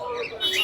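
Caged birds squawk in a brief, busy burst at the Mirpur 13 Bottola bird market, a dense cluster of harsh calls that grows louder toward the end, with people's voices mixed in.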